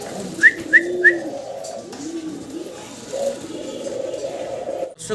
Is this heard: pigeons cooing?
yes